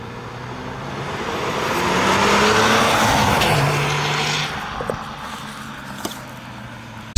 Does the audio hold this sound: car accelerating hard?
yes